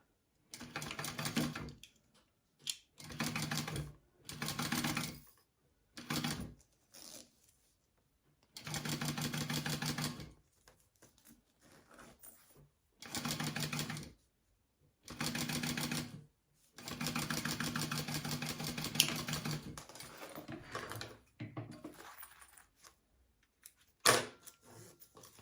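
A sewing machine stitches a fabric wallet pocket in repeated bursts of rapid, steady whirring, each run lasting a few seconds and separated by short pauses, close and clear with no talking.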